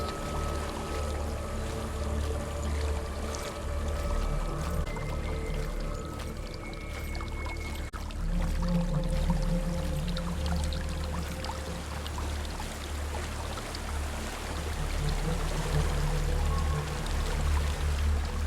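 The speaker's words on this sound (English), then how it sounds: "There's a waterfall." Steady rushing water from a waterfall in the video game Hellblade: Senua's Sacrifice, a continuous pouring roar with faint tonal ambience layered above it, sustained and even throughout.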